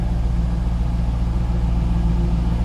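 A stock 2002 Pontiac Trans Am WS6 convertible with an LS1 V8 idling, a loud, close, even low rumble with a steady pulsing beat and no revving, heard alone.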